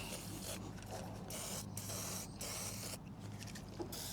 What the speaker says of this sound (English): I'm going to go ahead and spray down all this with penetrating oil